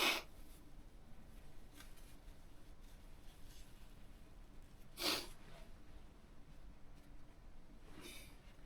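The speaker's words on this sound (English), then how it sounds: "Let me blow my nose." A person blows their nose indoors, three short, breathy bursts spaced a few seconds apart, the middle one strongest, with quiet room tone between.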